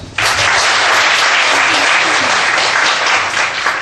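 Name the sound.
congregation applause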